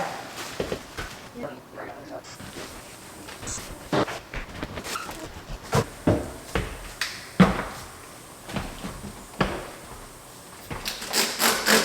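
Wooden kitchen cabinets being wiped and cleaned during a move-in cleanup, giving repeated close rubbing and scrubbing strokes with scattered knocks of wood, under intermittent talk.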